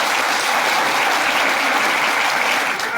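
Sustained, dense applause from a rally crowd at a Bahujan political gathering, loud and steady throughout without a break, with no speech over it.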